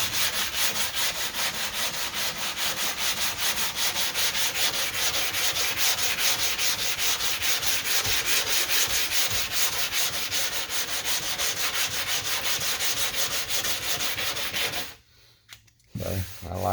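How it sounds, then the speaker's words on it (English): Rapid, rhythmic strokes of sandpaper scrub Bondo body filler along a car's body line, a continuous harsh rasping that stops abruptly near the end before resuming briefly. "I'll sand just a little bit more right there"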